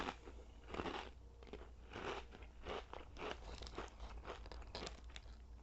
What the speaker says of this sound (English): ridged chips, which you know we like. We like the crunch.